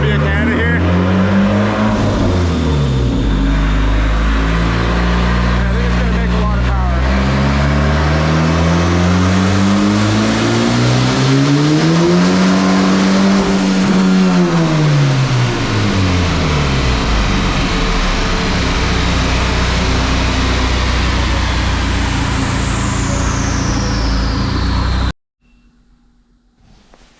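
A panel wagon running on E60 ethanol pump fuel is revved hard on a dyno, the loud engine note climbing and falling through a long pull of about 25 seconds before cutting off abruptly.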